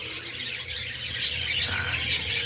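Parakeets in a breeding cage chirp and tweet continuously, a busy layered chatter of small bird calls at moderate distance, fairly quiet, with no talk.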